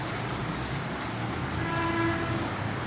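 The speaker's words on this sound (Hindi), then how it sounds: "इतना तेज हॉर्न तो ट्रक का ही होता है" A loud vehicle horn sounds from outside, a sustained tonal blast rising over a constant heavy rumble of rolling traffic. No voices are heard.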